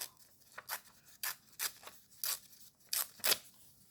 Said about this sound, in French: Je ne vais pas le couper au ciseau, je vais le couper à la main.